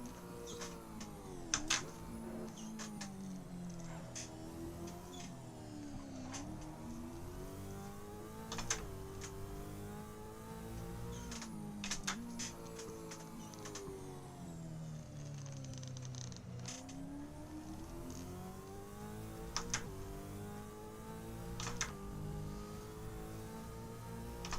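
Racing car engine in the video game Assetto Corsa, a continuous droning note rising and falling as the car accelerates and shifts, with sharp clicks and brief taps scattered throughout.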